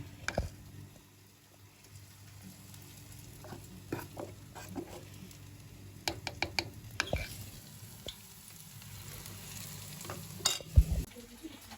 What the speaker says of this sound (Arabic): غنبدا نهز ونقلي. هانتوما بسم الله. الزيت راه سخونه